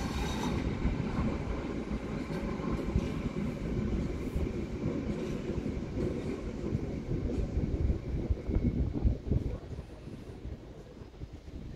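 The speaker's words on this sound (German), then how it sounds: "Zug nach St. Veit an der Glan über Feldkirchen in Kärnten fährt ein" Special excursion train 16496 pulling into Villach main station, a steady rumble and rattle of railcars rolling past the platform, growing louder and more clattering toward the end, with wind buffeting the microphone.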